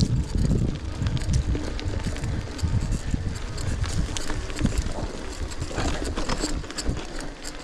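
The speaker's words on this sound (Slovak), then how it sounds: "Ešte aj dosť fúka do toho" Wind buffets the microphone on a mountain hike up Panská Javorina from Hrádok, Slovakia. It makes a continuous rough roar with heavy low-end rumble and gusty swells that lasts the whole time.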